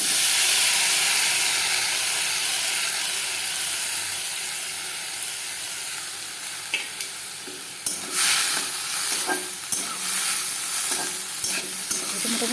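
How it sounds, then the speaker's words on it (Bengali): Food sizzles and fries in a small amount of melted butter while a utensil stirs and scrapes the pan, with steady hiss throughout and sharper scraping clicks in the second half; no talking. "এখন দেখা ভাজা ভাজা করবো।"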